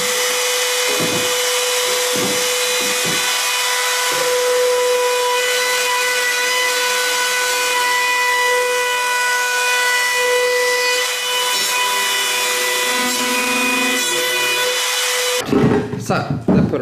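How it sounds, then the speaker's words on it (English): A corded router fitted with a round-over bit rounds the inside edges of the port on a slot-ported box. It whines at a high, steady pitch while the bit chatters against the wood in bursts, and it stops abruptly near the end. "we're just going to use the round over bit, just like that on the router"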